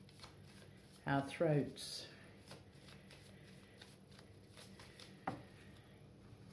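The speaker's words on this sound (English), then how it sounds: "I'm going to shuffle the cards" A deck of cards is shuffled in a quiet room: a brief, crisp riffling burst followed by a softer bridge, with a later tap of the deck, while a voice speaks briefly.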